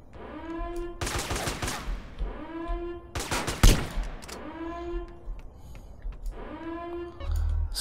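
Minigun fire in the video game GTA San Andreas comes as dense, rapid-fire bursts, several in a row at steady loudness, separated by rising mechanical whines as the barrels spin up.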